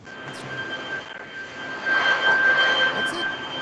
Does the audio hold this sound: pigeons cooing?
no